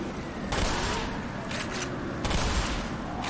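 Shotgun blasts in the video game Black Mesa, with two or three sharp, loud bursts over a steady rumbling background, no talk during the shots.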